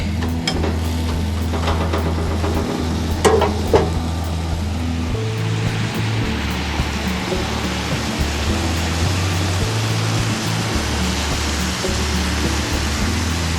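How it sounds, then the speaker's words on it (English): A mixture sizzling and frying in a pan as it cooks down toward caramelizing, a continuous dense hiss with a low hum beneath and a few brief clinks early on. "we're gonna cook that until it starts to caramelize"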